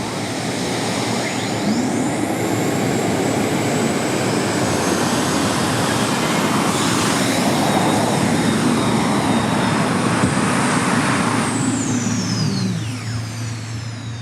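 The turbine engine of the pulling tractor "The Judge, Next Generation", a military aircraft engine at a super modified tractor pull in Hillsboro, Wisconsin, roars with a loud, steady jet whine and sweeping tones for the whole run, then eases off at the end.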